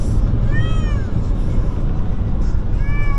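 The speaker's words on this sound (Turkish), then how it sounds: "ne kadar miyavlıyormuş" A cat meows twice, a drawn-out cry and then a shorter one, close by over a constant background hiss.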